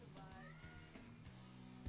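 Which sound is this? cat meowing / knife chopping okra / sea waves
cat meowing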